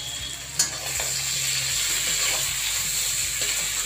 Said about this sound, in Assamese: তাৰপিছত অকণমান লৰাব লাগিব